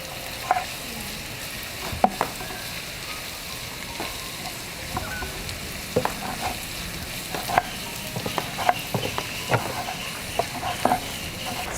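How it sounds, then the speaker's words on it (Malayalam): Sliced onions fry in hot oil for a chicken dish, a continuous moderate sizzle with frequent spoon stirs and sharp clinks against the pan, and no voices. "സവോള നന്നായിട്ട് ഫ്രൈ ആയി വന്നിട്ടുണ്ട്."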